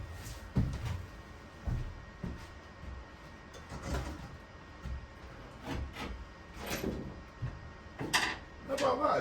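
A boat's large bow door opens with a series of heavy clunks, knocks and scraping sounds spread across a steady background rumble.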